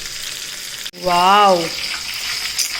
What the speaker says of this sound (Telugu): దీంట్లో ఇది మంచిగా ఫ్రై అవుతుంది.